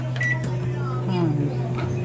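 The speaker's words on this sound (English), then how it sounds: "Okay, to the microwave" Microwave oven running in a home kitchen while preparing sushi, a steady low electrical hum with a brief beep-like tone near the start, heard close with talk over it.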